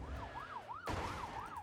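A police car siren from a sound effects pack, wailing loud and close in a steady up-and-down sweep, with a sudden burst of added road and engine noise partway through.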